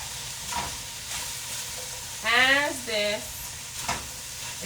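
Cumin and onions fry in oil in a pan with a steady close sizzle throughout, and a brief voice sound rises over it midway.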